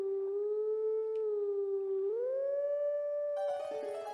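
A sustained in-game wolf howl from The Legend of Zelda: Twilight Princess holds one steady tone, then slides upward into a higher held note before a burst of other game sound cuts in at the end.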